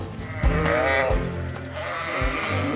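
Sheep on a farm bleating repeatedly, several overlapping wavering calls close by, heard with a few other farm sounds.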